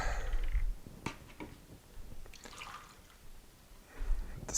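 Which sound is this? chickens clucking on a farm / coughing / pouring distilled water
pouring distilled water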